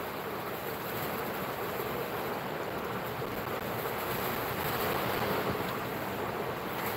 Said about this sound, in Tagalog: May hangin na.